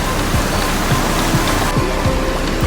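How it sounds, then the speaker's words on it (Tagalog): Heavy rain pours onto a road in a dense, loud, continuous hiss with scattered close drop impacts throughout. "Pag mo kusog ang uwan ba."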